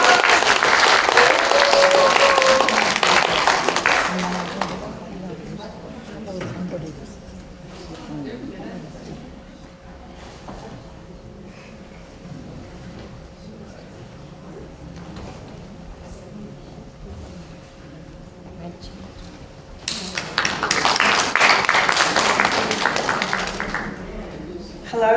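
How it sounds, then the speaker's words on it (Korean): Audience applause greets a speaker at a Korean women's congress in a National Assembly conference hall, loud dense clapping for about five seconds, a quieter stretch with a faint steady tone, then a second loud burst of clapping. "여러분 환영의 박수 부탁드립니다."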